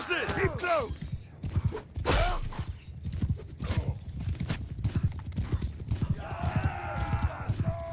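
Many horses galloping in the video game Mount & Blade II: Bannerlord, a continuous low drumming of hooves during a battle charge, with a voice shouting and talking above it.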